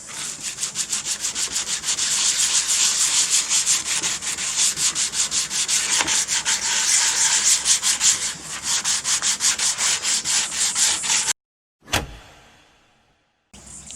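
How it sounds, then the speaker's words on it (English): Steady rhythmic hand sanding on a Toyota Hilux body being stripped back, a loud scraping stroke repeating continuously for about eleven seconds, then a sudden stop and one last rough scrape. "Time to give her a sand up."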